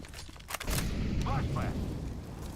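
A flashbang grenade detonates in the tactical shooter Valorant with a sharp broadband burst, followed by a sustained loud rumbling tail while voices talk over the game sound.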